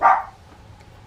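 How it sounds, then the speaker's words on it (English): A single short dog bark right at the start, fairly loud and close, then quiet room tone. "sorry about my dog barking"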